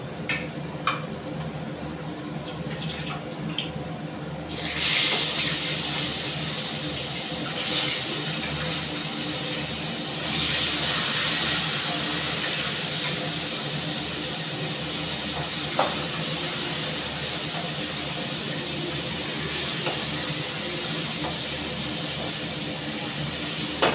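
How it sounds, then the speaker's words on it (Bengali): Fish frying in well-heated oil in a home kitchen with the chimney exhaust running: a steady, loud hiss of sizzling that fills the whole stretch, with occasional sharp pops and crackles and no talk. "এবার এর মধ্যে আমি মাছগুলো ভাজবো"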